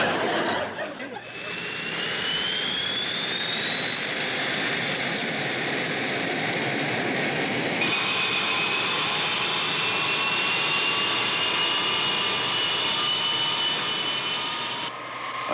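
Steady roar and rising whine of a jet airliner engine in an Eastern Airlines commercial, loud and continuous throughout with a high tone climbing in pitch, then shifting at mid-point and holding, no voices over it.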